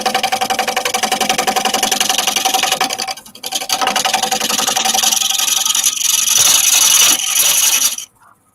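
A chisel cuts into a wooden bowl spinning on a lathe, giving a loud, continuous scraping and shaving roar with rhythmic texture, a brief dip midway, then cutting off sharply near the end.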